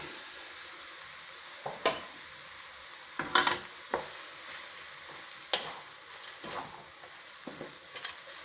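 Cooked vermicelli (shavige), boiled in salted water, is stirred and mixed in a pan, giving scattered scraping and clinking strokes over a quiet background with no talking.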